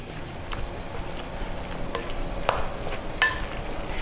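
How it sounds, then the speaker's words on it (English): A wooden spoon stirs a raw meatloaf mixture seasoned with salt and pepper, giving soft wet squelching scrapes with a few sharper clicks against the bowl. "We're gonna take a wooden spoon and we're gonna stir everything up."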